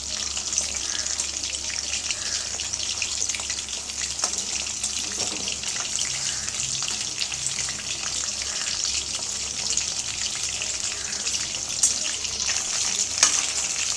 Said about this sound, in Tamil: எண்ணெயில் போட்டவொடனே திருப்பக்கூடாது ஒரு ரெண்டு மூணு நிமிஷத்துக்கு நல்லா வேக விடுங்க